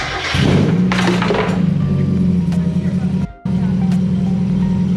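A Mazda Miata engine with full exhaust runs steadily with a low, droning rumble, close and loud, briefly cutting out for a moment before resuming, while people talk over it.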